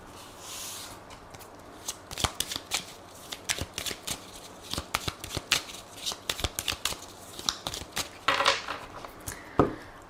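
Tarot cards shuffled and cut by hand in a quiet room, a steady run of close, crisp riffling and snapping strokes with a few sharper slaps near the end.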